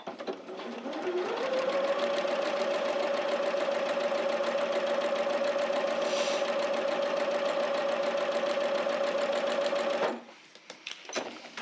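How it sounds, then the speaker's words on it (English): A sewing machine stitches Tula Pink fabric along a marked line, running steadily and loud for about nine seconds after a short ramp-up, then stopping, with a few faint handling clicks at the end. "I'm just sewing on this line"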